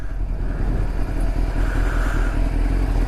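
Motorcycle ridden through London traffic, a steady engine drone with low rumble and road noise, moderately loud and close with no clear revving.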